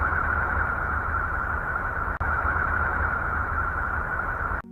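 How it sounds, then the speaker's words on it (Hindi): Sonified electromagnetic vibrations of planet Uranus recorded by the Voyager probe, a steady hollow hiss and drone with a faint ringing band, unbroken and even throughout. "डेब्रिस से घिरे होने के कारण यूरेनस की आवाज सुनने में हमें गूंजती हुई लगती है।"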